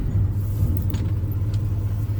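Ford F250 camper special truck idling at operating temperature, a close, steady low engine rumble with a constant hum, no talk over it.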